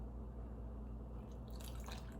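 Water is poured into a measuring cup, a steady faint liquid trickle with small drips heard up close, with no talking.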